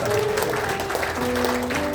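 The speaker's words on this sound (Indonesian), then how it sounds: "Boleh tepuk tangan buat Tuhan Yesus." A congregation at an evangelistic church service claps for a short stretch, a continuous wash of applause with a voice faintly audible through it.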